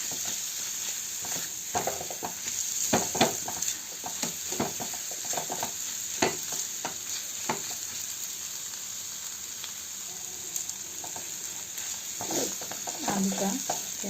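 Potatoes fry in a pan while being stirred and mixed with ground spices for mini samosa filling: a steady sizzle runs throughout, broken by repeated scraping strokes of the stirring utensil, close and fairly loud.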